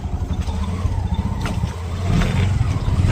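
An auto rickshaw pulls away with its small engine humming and building up speed, a steady close rumble that strengthens toward the end, heard on its own without talk.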